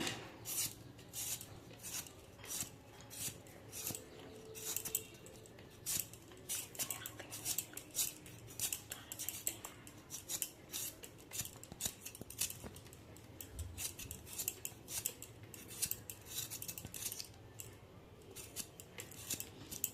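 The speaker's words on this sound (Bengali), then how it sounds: "এইভাবে প্রত্যেকটা আলু আমি ছাড়িয়ে নেব" Potatoes are peeled by hand in a quiet kitchen, giving a long run of quick, faint, rhythmic scraping strokes of a blade on skin, close to the microphone and without talk.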